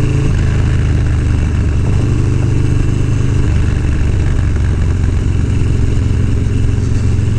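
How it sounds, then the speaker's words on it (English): Loud, close rumble of a Harley-Davidson Dyna motorcycle exhaust booming through a tunnel, a steady deep throb sustained throughout with no talking. "You could really hear this exhaust."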